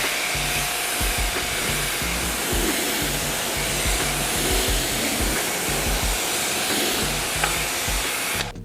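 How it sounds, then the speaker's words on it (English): Water spray rinsing a Lexus RX 500h tire, a steady, loud, broadband hiss with a low rumbling undertone that runs unbroken until a sudden cutoff at the end. "I'm gonna rinse the tire off."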